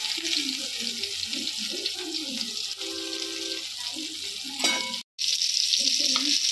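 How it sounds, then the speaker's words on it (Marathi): Semolina-coated prawns fry in a pan with a steady, close crackling sizzle, broken by brief clinks and shuffling as they are turned, with a momentary dropout near the end. "चांगले दोघी बाजूने खरपूस फ्राय करून घ्यायचे।"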